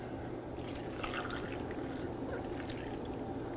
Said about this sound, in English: Now get the water in.